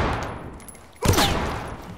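Burst of gunfire in the tactical shooter Ready Or Not during an indoor police raid, a sudden loud volley of shots erupting after a quieter stretch and ringing on with rapid follow-up cracks.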